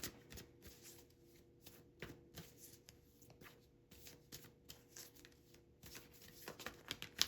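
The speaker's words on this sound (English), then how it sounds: "Cards are flying out." Tarot cards being shuffled by hand, soft repeated riffling and slapping bursts in an irregular rhythm, close and quiet, with a few cards snapping out of the deck.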